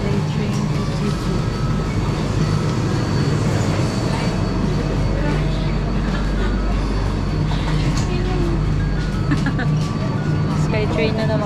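The Skytrain at Singapore Changi Airport moving along, with a continuous rumbling ride noise and clattering wheel and car sounds at close range. Voices are heard over it.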